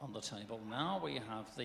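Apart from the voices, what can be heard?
No distinct noise like a dog, phone or traffic.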